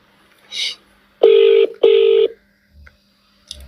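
Two sustained electronic telephone tones in quick succession, close and loud, with a few soft clicks and faint bumps around them.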